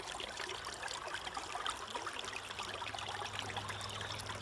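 Water draining from a gold panning sluice in France, a soft continuous trickling and splashing flow heard alone at low level.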